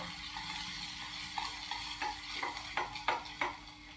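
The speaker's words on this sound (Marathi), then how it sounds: "थोडंसं हलवते" Spices for a Marathi rice dish are stirred in a pan over a steady sizzle, with a few sharp spoon scrapes and clicks near the end, no voices.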